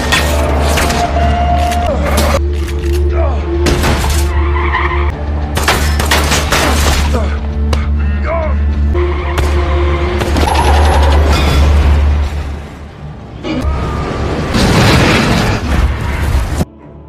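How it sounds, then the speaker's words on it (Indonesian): Gunfire and explosions from a Mexican drug-cartel shootout after a highway chase: loud, dense bursts of shots and booms over a constant low rumble, nearly continuous for the whole stretch with a short lull near the end. "Setelah pengejaran di jalan raya dan baku tembak, John berhasil lolos"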